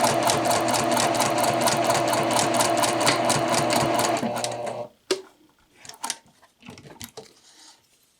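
A sewing machine runs top stitching along a two-piece collar, a loud steady rapid whir for about five seconds, then stops and gives way to a few faint handling clicks and rustles.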